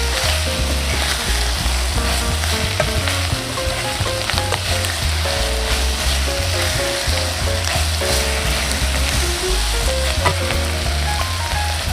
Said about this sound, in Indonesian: Lalu kita masukkan kecap saus tiram